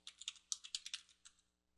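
A password is typed on a computer keyboard in a quick, quiet run of about a dozen crisp keystrokes that trails off into near silence.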